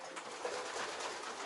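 A racing pigeon in a loft gives a soft, low coo over a close, hissy background, brief and near.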